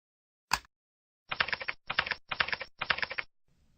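Typing on a computer keyboard to enter a license ID: one isolated keystroke, a pause, then four quick bursts of clustered key taps close to the microphone, crisp and quiet against silence.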